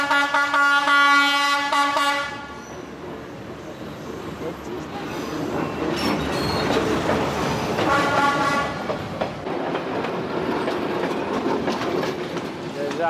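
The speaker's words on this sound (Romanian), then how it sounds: "Noi ne îndreptăm însă spre Train Street, o stradă pe unde trenul trece pe o alee foarte îngustă printre casele localnicilor." Train squeezing along narrow Train Street in Hanoi between houses, its horn blaring at first, then the rumble and clatter of passing cars building up close by, with a crowd's chatter and street noise around it.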